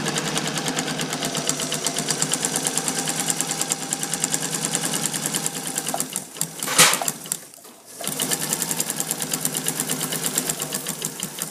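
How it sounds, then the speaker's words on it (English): A sewing machine stitches a straight seam on a skirt with a steady, fast mechanical whirr. Partway through it briefly stops and restarts for a reverse stitch, then continues sewing. "So I'll sew, reverse, and again sew straight down to the bottom."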